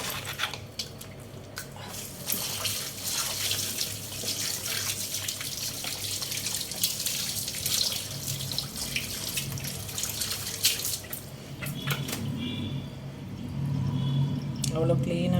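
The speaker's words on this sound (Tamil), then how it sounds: "நான் கழுவிட்டு காட்டுறேன்." Water runs from a tap over a brush being washed during cleaning, a steady splashing rush that shifts near the end as the flow changes; a voice speaks in the background.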